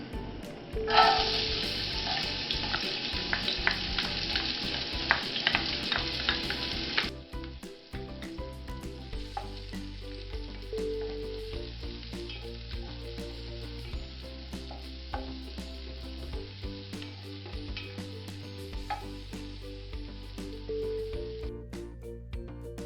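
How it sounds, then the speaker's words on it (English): Onions frying in a hot, oiled pan for a Kenyan mrenda vegetable dish sizzle loudly in a bright burst at first, then settle into steady crackling with occasional utensil clatter and stirring, close up and without speech. "Make sure your pan is hot. Into it I add the onions."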